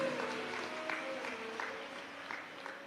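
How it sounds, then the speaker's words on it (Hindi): An audience at a live Shiv Mahapuran katha gathering in Prayag applauds to welcome visiting saints, a steady, moderately soft wash of clapping throughout with faint crowd murmur. "एक बार जोरदार ताली बजाकर उनका स्वागत करिए।"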